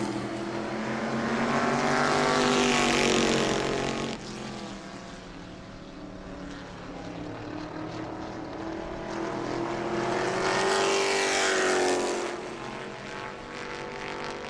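A race car runs down the front straightaway toward the checkered flag on the final lap at a New Smyrna short-track family night, its engine roaring loud, swelling as it passes and rising again near the end with no talk.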